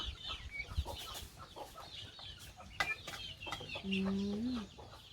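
Soft hen clucks come and go among other farmyard birds, ending in a longer drawn-out cluck, with faint outdoor noise underneath, in a rural Thai farmyard.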